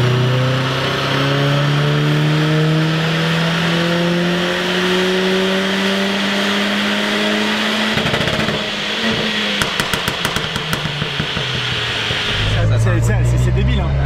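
A Seat Leon FR with a remapped engine drives past, its revs climbing in a long rising drone, then crackling with pops before a loud engine burst near the end; people talk over it.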